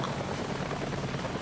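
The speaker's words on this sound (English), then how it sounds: "Oh, I hear the helicopter." A helicopter in the horror video game Daymare 1998 drones as a steady, dense rotor rumble, continuous and fairly loud, with no speech over it.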